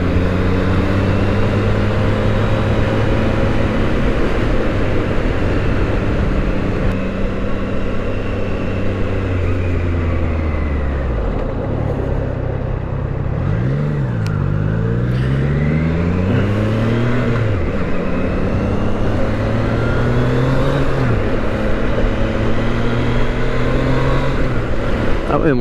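A Triumph Trident 660 motorcycle rides onto a bridge in San Francisco, its engine loud and steady with rising and falling revs as it shifts through gears, close to the microphone under heavy wind.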